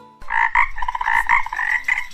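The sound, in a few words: frog croaking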